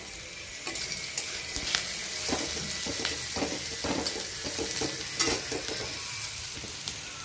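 Leafy greens fry with water in a pan, giving a steady sizzle under repeated scraping stirs and soft clinks of a utensil against the metal, with no talking.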